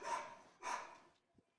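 Two sharp dog barks ring out in quick succession at a ballgame between the Casper Horseheads and Mining City Tommyknockers, moderately distant and echoing, followed by a faint thump.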